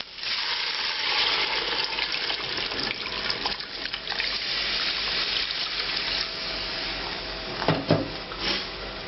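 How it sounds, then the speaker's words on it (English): Water poured into a cooking pot over browned lamb pieces for Georgian kharcho soup, a continuous rushing pour held at a steady level and close to the listener, with a few knocks against the pot near the end. "and enough water to cover it."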